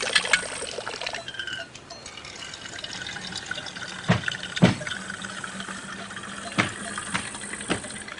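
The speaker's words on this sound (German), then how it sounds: "Vielleicht gibt's hier frisches Wasser für meine Feldflasche." Fresh water runs into a canteen at a mountain farm with wide wooden roofs, a continuous splashing flow broken by a few sharp knocks and clinks, close and fairly loud.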